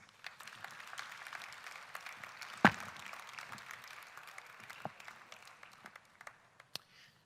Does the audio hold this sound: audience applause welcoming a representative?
yes